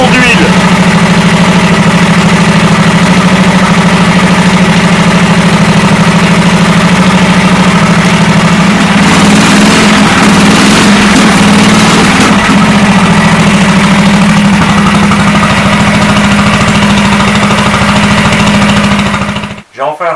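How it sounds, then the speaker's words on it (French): An old Matchless G80S motorcycle engine idles steadily up close after repair, a loud low chugging hum with rattly vibration that cuts off abruptly at the end. "J'ai enfin réussi à faire démarrer cette moto."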